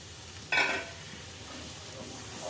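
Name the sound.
tomato paste and water sizzling in a pan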